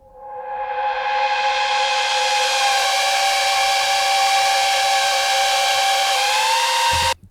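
Harmonized synth lead lines hold bright, sustained stacked notes at high volume, sliding between pitches with smooth pitch bends before stopping abruptly.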